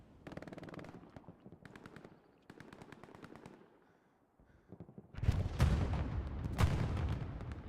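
Machine gun fire in the video game Hell Let Loose: short rattling bursts at first, then a pause, followed by a louder, denser stretch of rapid automatic fire mixed with heavier thuds.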